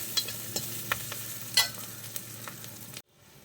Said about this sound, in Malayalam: വെളുത്തുള്ളി ഇഞ്ചിയൊക്കെ നന്നായിട്ട് വഴണ്ട് വന്നിട്ടുണ്ട്